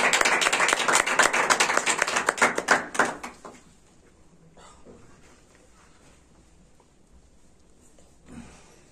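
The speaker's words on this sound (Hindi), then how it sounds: "जलाल के लिए जोरदार तालियां" A church congregation at a Sunday service applauds the pastor, a dense burst of many hands clapping for about three seconds before it fades out, leaving faint room noise and a brief voice near the end.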